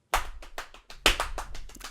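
Someone slaps their legs to imitate a clap, giving about nine quick, crisp, close slaps in two bursts with a brief pause between them.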